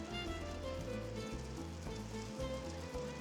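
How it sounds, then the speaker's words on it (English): A tuna steak oiled with olive oil sizzles on a hot grill in a steady, crackling hiss, partly under background music. "nice sizzle, right?"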